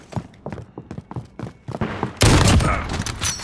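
Gunfire in Call of Duty Modern Warfare during a 1v1 match: a run of quick separate shots, then a loud, dense burst of fire near the end.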